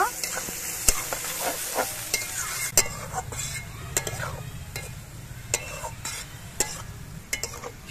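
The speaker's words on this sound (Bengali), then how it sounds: "পেঁয়াজগুলো আমি লাল লাল করে ভেজে নেব।" Onions fry in hot oil until reddish for a cauliflower korma, a continuous sizzle broken by frequent sharp clicks and scrapes of a stirring spoon against the pan.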